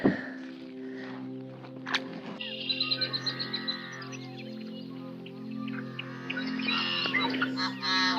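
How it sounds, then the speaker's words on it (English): Strange creaky, buzzing calls of yellow-headed blackbirds, like squeaky broken horns, repeat from a nearby marsh chorus over a low steady hum, with some faint thumps. "I'm sure you guys can hear all those crazy yellow-headed blackbirds."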